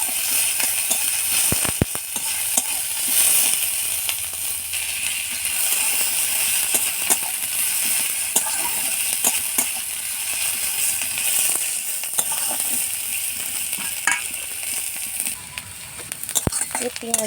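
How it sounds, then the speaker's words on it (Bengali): Chopped onion frying in oil in a pan, a continuous bright sizzle with crackles and occasional stirring clatter, close and steady throughout. "পেঁয়াজটা একটু ভেজে নেবো"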